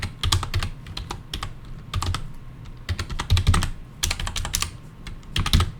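Close keystrokes on a computer keyboard come in irregular bursts of rapid taps with short pauses between them, and no voices are heard.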